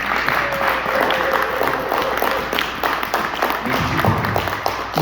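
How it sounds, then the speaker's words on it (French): Church congregation applauding steadily, a dense wash of clapping with crowd murmur that holds at even loudness throughout, with a few voices rising briefly within it. "Je demandais à l'église qu'on acclame la parole de Dieu."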